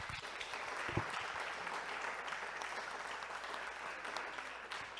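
A church congregation applauds steadily for several seconds, a dense continuous patter of many hands with a few louder claps standing out.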